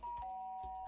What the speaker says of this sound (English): Guess I should press the doorbell.